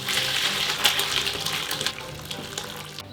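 Broth poured from a cauldron through a strainer for coq au vin, a steady close splashing gush of liquid that runs continuously for a few seconds with no talking.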